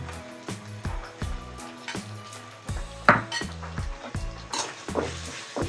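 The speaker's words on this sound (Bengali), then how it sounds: "এগুলো দিয়ে একটু ভেজে নিই। অল্প আঁচে ভেজে নিই।" Ground turmeric, chili, coriander and salt fry over low heat in a pan, with a soft sizzle under repeated clinks and scrapes of a spoon against the metal, close by and with no talk.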